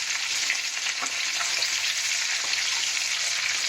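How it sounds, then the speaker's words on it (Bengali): Koi fish fry in hot oil in a pan. A dense, even sizzle holds steady from start to finish, close and fairly loud, with faint crackles and no voices. "এবার আমি মাছগুলো এক এক করে ভেজে নিচ্ছি।"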